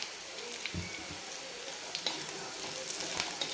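Steady bubbling sizzle of chicken curry simmering in a pan, with soft crackles and pops throughout and no talking.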